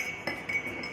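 A spoon stirs common salt into water in a glass, giving light clinks of metal against glass over a steady background hiss, brief and close.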